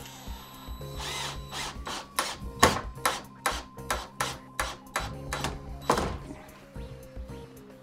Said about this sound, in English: So I'm gonna send this screw all the way through the styrofoam and into the frame.